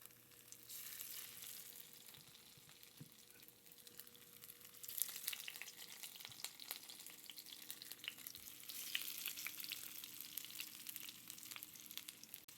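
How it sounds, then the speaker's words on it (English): Scalloped potato slices shallow-frying in plenty of oil in a pan, a soft continuous crackle and sizzle that grows a little louder midway, with occasional faint clicks, no voices. "I'm going to put them in top side down first. And we want to fry them on all sides."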